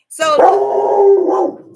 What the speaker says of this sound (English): now that's my dog